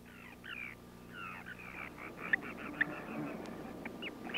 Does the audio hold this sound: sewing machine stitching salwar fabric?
no